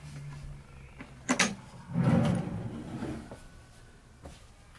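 A few wooden knocks and a brief sliding scrape as motorhome drawers are handled, with soft thuds of items set inside, fairly close in a quiet room.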